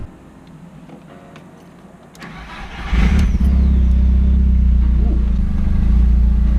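A VW MK4 1.8T engine with a newly installed starter cranks briefly, then catches and settles into a loud, steady idle that runs on alone after the start.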